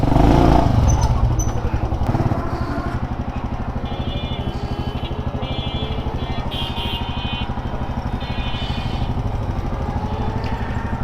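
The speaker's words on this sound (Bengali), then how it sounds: "মোটামুটি গরম হয়ে গেছে ইঞ্জিন। সো" An XL motorcycle's warmed-up engine runs with a steady, rapid putter, loud and close, with a brief rougher burst at the start before settling into an even chugging rhythm.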